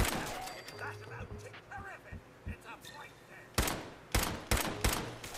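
Gunfire in Fallout 4, scattered shots under game sounds and talk early on, then a tight burst of four or five loud, sharp reports near the end.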